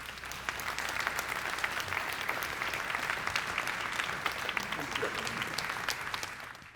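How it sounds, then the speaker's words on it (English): An audience at a mayor and council breakfast gives panelists a round of applause: steady, dense clapping from a roomful of people, sustained at an even level throughout. "Could we have a round of applause for our panelists?"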